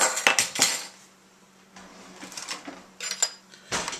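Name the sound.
stirring vinegar and ketchup sauce in a dish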